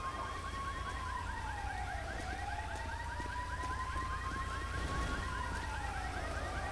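A stolen car's alarm wails in the LSPDFR police game, a looping rising and falling electronic siren tone that repeats steadily at moderate distance over low background rumble, with no speech.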